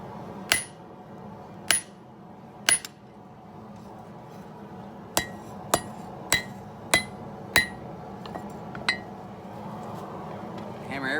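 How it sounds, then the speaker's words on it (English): Hammer blows ring out on a hot steel blade being forged at an anvil, with three sharp strikes, a pause, then a quicker run of about seven clanging hits, loud and close over a low background hum. "Hammer everything behind the dimple."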